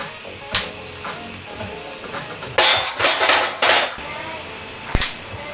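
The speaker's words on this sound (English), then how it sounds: "I'm now gonna weld these together, just do some tack welds just in case I need to change something later" Tack welds joining a T25 turbo flange to a standard exhaust manifold on a Mitsubishi Lancer: a few short bursts of crackling, hissing arc welding, up close, separated by sharp clicks and quieter workshop noise.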